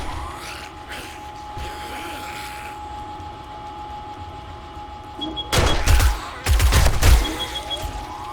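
An SMG turret in 7 Days to Die fires two loud, close bursts near the end, following a stretch of steady low hum and ambient base noise.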